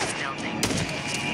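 A gunshot bursts out in the Days Gone game, a single sharp crack landing mid-clip over a steady backdrop of dense game noise.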